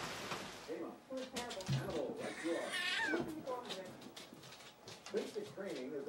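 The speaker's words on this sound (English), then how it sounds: "here is a cat fight" Cats yowling and meowing at each other in a fight, loud and close, with repeated rising and falling wails over steady background noise.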